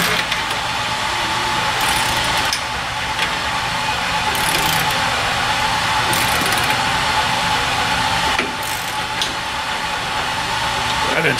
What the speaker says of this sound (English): That engine sounds sick.